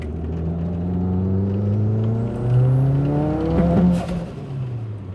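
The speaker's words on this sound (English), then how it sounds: "started popping on me there. It overboosted for sure." Turbocharged Mitsubishi Eclipse GSX engine with a broken wastegate flapper, overboosting as it revs up, a loud rising engine drone that peaks and falls back, with rough popping near the top of the pull.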